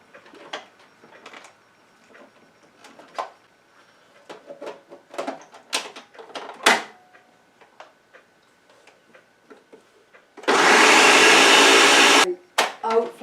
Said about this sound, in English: The food processor is not full enough,